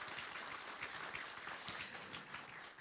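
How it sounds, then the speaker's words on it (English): Audience applause at the launch of the YX Precious Metals Bhd IPO prospectus: steady, dense clapping from a crowd, moderately faint and continuous throughout with no talk over it. "Round of big applause to Ms."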